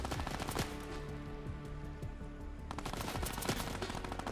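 Rapid automatic gunfire in the Fortnite video game, bursts of shots crackling in quick rhythm, pausing briefly mid-clip before another loud volley resumes.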